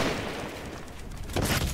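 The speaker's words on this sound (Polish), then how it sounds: "Słyszę strzały z daleka" Distant gunfire in the video game Fortnite: a steady wash of faint far-off shots, swelling into a louder burst near the end.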